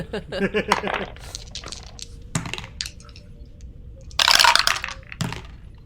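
Real dice tumble across a Weave playset tray, a few hard clattering knocks followed by a bright rattling burst near the end, close and fairly loud, with a voice heard briefly at the start.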